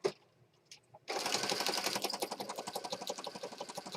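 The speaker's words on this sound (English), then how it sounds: "Okay, let's stitch around here." Sewing machine stitching sari silk fabric for a peacock-themed journal: after a second of quiet handling, the needle starts up into a steady, rapid mechanical chatter that runs on evenly to the end.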